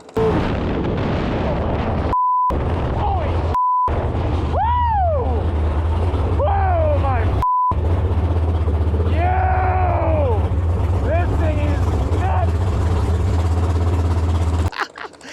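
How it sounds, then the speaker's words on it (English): A 1200HP big block jet boat does a burnout, its engine roaring loud and close throughout with bursts, pops and rising-falling revs, interrupted by brief censor beeps, then cutting off abruptly at the end. "We have successfully completed a burnout."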